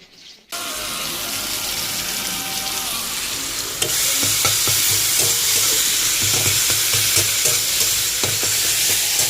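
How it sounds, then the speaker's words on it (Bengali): Ginger-cumin paste and tomato fry loudly in a pan for fish curry, a dense continuous sizzle joined by rhythmic scraping and stirring knocks after a sharp start. "আদা জিরে বাটা টমেটো দিয়ে রান্না হচ্ছে"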